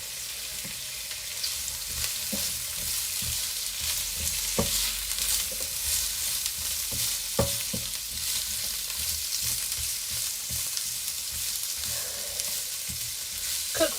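Carrots and peppers sizzling and frying in a pan for plant-based peanut butter tofu pad thai, a steady close hiss with occasional stirring scrapes and clacks throughout.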